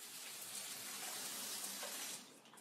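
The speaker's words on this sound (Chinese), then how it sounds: "打开淋浴器" A bathroom shower runs as a steady, soft rush of spraying water that carries on evenly, then drops off slightly near the end, heard alone and at low level.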